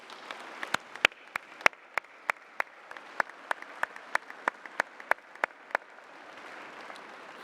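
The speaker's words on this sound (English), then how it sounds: "Let's give these Latin scholars a round of applause," Sparse applause for Latin scholars at a school assembly: a small number of distinct, loud individual claps ringing out one by one in an uneven rhythm over a quiet room, fading out for the final second.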